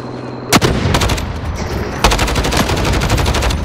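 Automatic gunfire in the video game Call of Duty Warzone rattles in two loud, close bursts of rapid shots, the second longer and sustained to the end.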